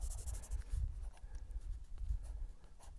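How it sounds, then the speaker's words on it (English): A pencil scratches across paper in short, quiet, irregular strokes while someone sketches a boundary stone outdoors on a Lake District fell. "Very simple pencil sketch of the boundary stone."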